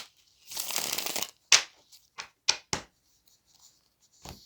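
A card deck riffles in a quick papery burst, followed by several short taps and slaps as the cards are squared, close and clear.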